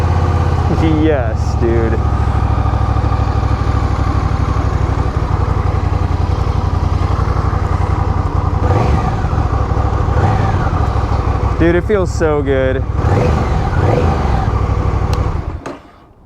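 A Honda Rebel 1100 motorcycle engine starts and idles loudly and steadily up close, rumbling continuously until it cuts off at the end, while people talk excitedly over it.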